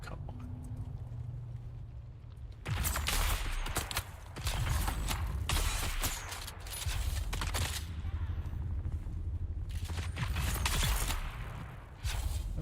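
Bursts of automatic gunfire in the sci-fi survival game Dune Awakening, loud and dense volleys after a quiet opening, with brief pauses between sustained rattling salvos.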